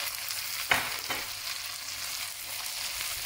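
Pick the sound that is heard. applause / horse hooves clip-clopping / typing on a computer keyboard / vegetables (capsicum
vegetables (capsicum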